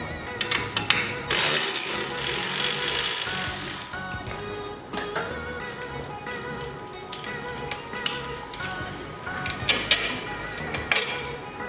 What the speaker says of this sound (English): Now to remove the end link bolt.